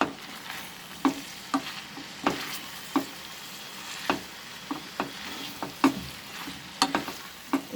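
Flat beans, potato and pea sabji frying in a pan over a medium flame, a steady soft sizzle broken by regular scraping stir strokes about once a second, close and fairly quiet.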